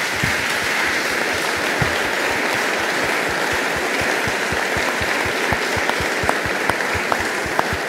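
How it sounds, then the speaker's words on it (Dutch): Steady applause from the audience at a talk on the future of Europe, honouring Caroline de Gruyter, a dense continuous patter of many hands, moderately loud and without voices over it. "En ik vraag u een hartelijk applaus voor Caroline."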